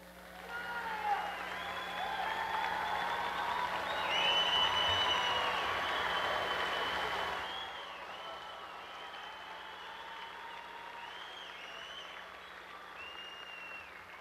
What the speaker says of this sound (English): Their success, coupled with your pride, certainly calls for applause. I say a standing ovation for these graduates.